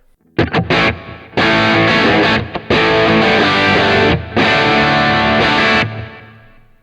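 A heavily distorted electric guitar plays thick sustained chords with a few brief stops, loud and close, ringing out at the end.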